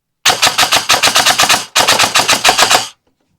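Rapid semi-auto airsoft gun fire driven by a Solink LITE budget brushless motor, two loud close bursts of about eleven and nine quick evenly spaced shots with a short gap between, alone.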